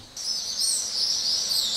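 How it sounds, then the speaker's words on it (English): Early-morning birdsong in the Highlands, a dense high chorus of small birds chirping continuously at moderate distance, with no voices. "the birds are out in force this morning"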